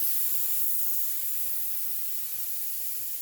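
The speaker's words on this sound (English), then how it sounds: "Spray both surfaces and apply pressure" 440 contact glue adhesive is sprayed onto roof surfaces while a wind-damaged 2004 Winnebago Sightseer roof is laminated, making a steady, continuous airy hiss that holds level without a break.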